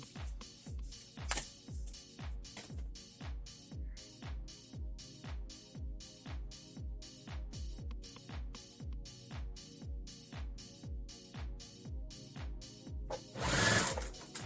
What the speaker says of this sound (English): I'm sewing this creepy cloth down just underneath the layer where I added all these strips of burlap